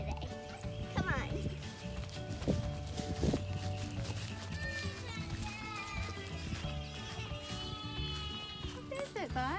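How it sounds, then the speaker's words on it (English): Goats bleating on a farm, several animals calling in wavering cries throughout, mixed with a busy layer of other sounds and voices talking nearby. "we're gonna meet the goats today"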